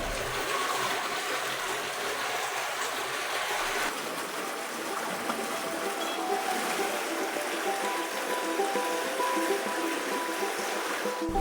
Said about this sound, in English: the sound of water trickling through the cobblestone streets